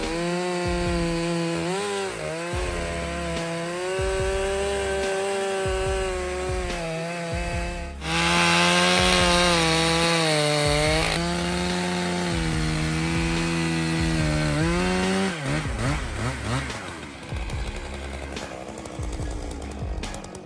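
STIHL MS661C-M professional chainsaw with M-Tronic engine management cutting wood, a loud, close, continuous engine whine whose pitch rises and falls as the chain bites, surging louder midway and then roughening near the end.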